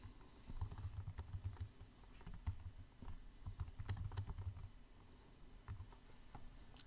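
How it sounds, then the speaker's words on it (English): Quiet, steady typing on a computer keyboard as notes are entered into invoice approval software, an irregular patter of light key clicks continuing throughout with brief pauses and no speech. "And I can type in any notes here."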